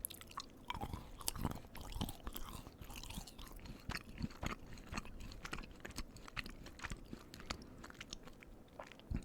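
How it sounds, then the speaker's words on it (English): Close, quiet chewing of chocolate candy and brownies, with soft crunches, bites and moist mouth clicks in an irregular, steady rhythm for several seconds, intimate and faint with no talking. "Give a nice little chew. A good sound, a good little calm, subtle sound with some good variety."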